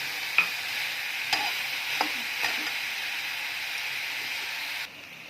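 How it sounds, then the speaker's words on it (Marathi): Onion frying in oil with salt in a pan, a steady broadband sizzle with a few sharp stirring clicks, close and continuous until it drops off near the end. "आता आपण कांदा भाजून घेणार आहोत"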